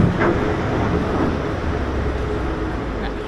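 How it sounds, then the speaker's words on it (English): A narrowboat hull scrapes along the shallow bottom of the Llangollen Canal near a bridge. It makes a continuous loud grinding rumble that fills the whole stretch without a break. "That horrible noise you hear is us scraping on the bottom."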